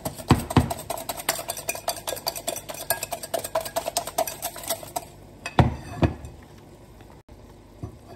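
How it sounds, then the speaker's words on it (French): Eggs being mixed with coconut sugar in a bowl, with repeated quick clinks and scrapes of a utensil against the bowl, steady for several seconds, then a few sparse knocks and a quieter stretch near the end. "je mélange 2 œufs avec 80 g de sucre de coco"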